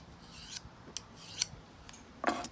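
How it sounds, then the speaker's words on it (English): Knife blade stroked across a finer whetstone, several short, soft, separate scraping swipes spaced irregularly, close and fairly quiet. "at the end I go with a finer stone, a little bit more time"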